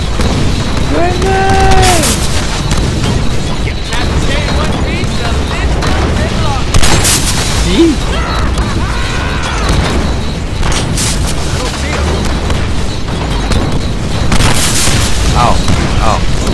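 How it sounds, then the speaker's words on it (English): Grenades burst amid gunfire in the Deadpool video game, with loud booming explosions arriving every few seconds over dense action noise and frantic voices talking throughout. "Grenade! Grenade!"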